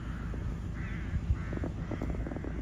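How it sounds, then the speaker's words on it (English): Several crows caw over a sunny farm field, their harsh calls coming in short repeated bursts at middle distance above a steady low rumble of farm machinery. "There's a lot of crows out there"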